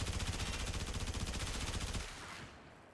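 Fulmin rifle in Warframe firing a rapid, regular burst of loud automatic shots at enemies, the stream cutting off after about two seconds into a fading tail.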